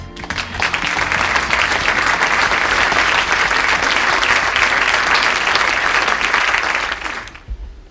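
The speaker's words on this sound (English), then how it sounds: "Please give a round of applause for him now." Sustained applause from a large crowd of European executives, dense steady clapping that carries on for several seconds before tapering off quickly.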